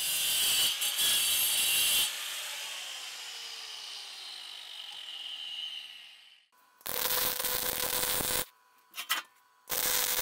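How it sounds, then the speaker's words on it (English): Angle grinder cutting a slot into a 16mm steel bar, bursts of harsh close grinding, a long fading spin-down, then more short grinding bursts. "I'm grinding a slot into it before I weld it onto the top bracket"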